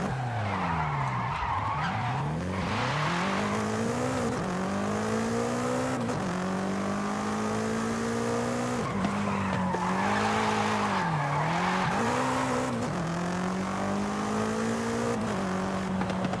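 A car's tires squeal through a handbrake drift in the Forza Horizon 5 racing game, long wavering screeches that rise and fall with engine revving across several sustained slides, loud and close.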